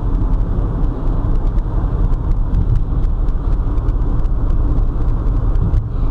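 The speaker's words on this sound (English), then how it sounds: "It's a very nice car coming there." Car passing on a road, a loud continuous low engine and tyre rumble close by that holds steady for several seconds with no voices.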